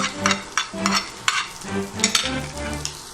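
Chopped onion sizzles in hot ghee with mustard seeds and curry leaves, with repeated stirring scrapes in a busy, loud rhythm close by.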